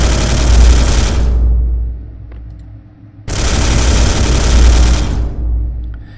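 Bolter guns from the Space Hulk video game fire in two loud, sustained bursts of rapid heavy shots at close range, separated by a brief fading gap.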